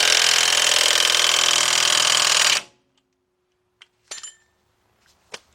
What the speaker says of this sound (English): get your 24mm socket, your 1/2-inch drive impact, and tighten that nut right up